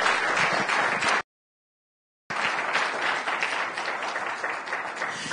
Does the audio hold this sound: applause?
yes